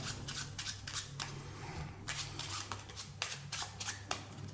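Cards riffled and shuffled repeatedly up close, bursts of fluttering, slapping paper with short pauses between, over a low steady hum.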